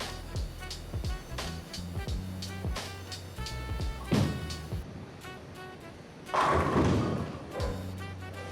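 A Motiv bowling ball, asymmetrical core, rolls down the lane with a rumbling thud, then a loud crash of pins a few seconds later, against a busy bowling alley background of other thumps and clatter.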